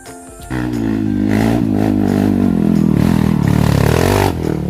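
A motorcycle engine drones steadily and loudly close by on a mountain trail up Mt. Paldingan in Pangasinan, its pitch rising and falling as it climbs, with scraping and rattling over rough ground.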